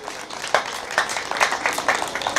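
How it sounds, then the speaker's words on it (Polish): Audience applause at a harvest festival in Drelów, Poland, with irregular clapping that swells and pulses unevenly, moderately loud and close. "Wielkie brawa dla ciebie, Mariusz"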